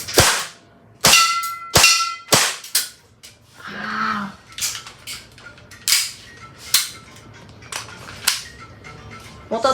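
An Umarex CO2 air pistol fires 4.5 mm steel BBs in a string of sharp, loud cracks spaced irregularly over ten seconds, with brief metallic clinks and a short spoken word among the shots.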